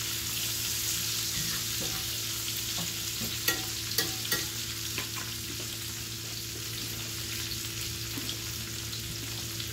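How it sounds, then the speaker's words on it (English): Vegetables stirred into a sizzling frying pan alongside potato and bacon, a steady frying hiss under a low hum, with a few sharp utensil taps and scrapes near the middle, close and with no voices. "So I'll just add those on top. And just give that a stir."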